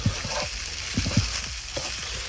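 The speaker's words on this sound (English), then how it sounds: "Once you put that soy sauce in, you gotta start stirring." Fried rice stirred with soy sauce in a hot pan, a steady close sizzle with repeated scraping and tossing clunks from the utensil, no speech.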